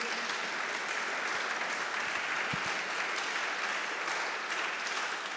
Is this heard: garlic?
no